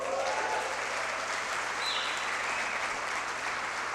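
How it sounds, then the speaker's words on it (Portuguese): A church congregation claps during a worship service, a dense, continuous round of applause at steady loudness with no talk over it. "Alguém mais quer dar um salva de palmas para Deus aí?"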